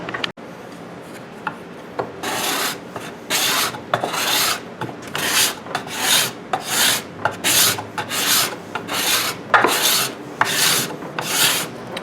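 A freshly sharpened cabinet scraper pulled over wood, a run of about a dozen rhythmic rasping strokes, close and fairly loud, each a short shearing scrape, with no talking.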